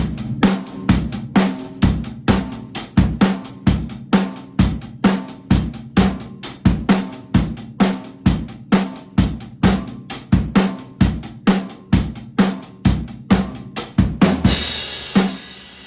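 A steady drum kit groove: punchy kick and snare hits in a regular repeating pattern with driving hi-hats, loud and close, ending in a cymbal wash.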